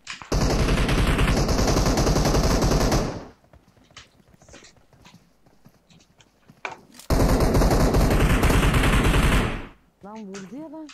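Sustained bursts of automatic gunfire in the battle-royale game PUBG, two loud, dense volleys a few seconds each separated by quieter rustling and small impacts, with a short tonal game sound at the end.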